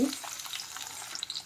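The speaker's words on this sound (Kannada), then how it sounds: "ಸ್ವಲ್ಪ ಈರುಳ್ಳಿ ಫ್ರೈ ಆದಮೇಲೆ" Onions fry in hot oil in a pan with cumin, mustard seeds, urad dal, chana dal and curry leaves for a South Indian tempering, giving a brief, steady close sizzle with light stirring.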